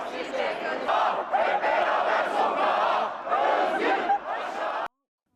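A large street protest crowd in Istanbul chants slogans in rhythmic unison, loud and sustained with surging bursts of voices, then cutting off abruptly.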